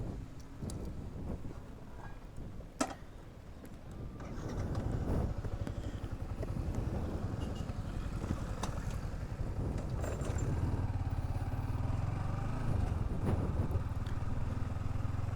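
A motorcycle starts and rides along a road, its engine settling into a steady drone after the first few seconds, with wind buffeting the microphone and no talking.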